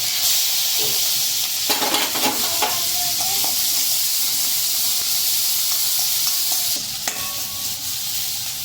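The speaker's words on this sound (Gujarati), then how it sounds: "તેલ સરસ રીતે ગરમ થઈ ગયું છે, તો તેમાં અડધી ચમચી આખું જીરું નાખશું" Steady loud sizzling of cumin seeds and chili-ginger paste frying in hot oil, with a few sharp crackles and stirring scrapes near the start, continuing without talk.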